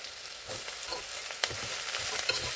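Bottle gourd pieces stirred and fried in a pan with garlic paste for sorakaya pappu, giving a soft continuous sizzle broken by light scraping and clicking stirs, fairly faint with no talking.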